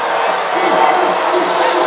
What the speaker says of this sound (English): Crowd trying to bother him.